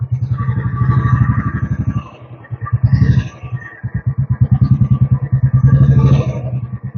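A Royal Enfield Bullet motorcycle engine starts and runs with a loud, close, thumping single-cylinder beat, dipping briefly and then picking up again with uneven revs.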